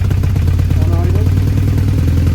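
A BMW R1100R motorcycle engine idles in a workshop during throttle body balancing, giving a steady, even low rumble with a close, constant pulse throughout and a brief vocal sound partway through.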